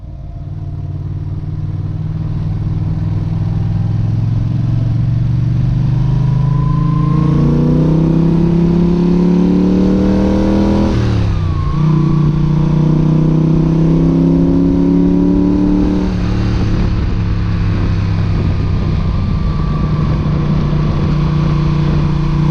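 Moto Guzzi Le Mans motorcycle engine heard while riding: loud, close exhaust drone rising through revs, a quick gear change near the middle, then steady cruising with more shifts, and no talk.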